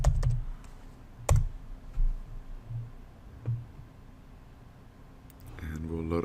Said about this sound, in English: we'll type in the password